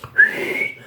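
A man whistling to mimic the old prison guards' whistles: one shrill, sustained whistle under a second long that rises sharply and then holds, close and alone.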